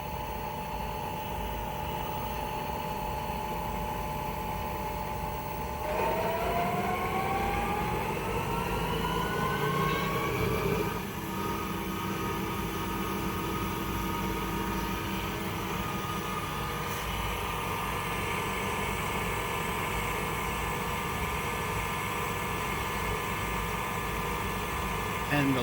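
A Cee Brewer Science 100GX centrifuge spins up to 2,000 RPM, a steady motor whine that rises in pitch during a ramp, then holds at a constant hum. A voice talks over the machine.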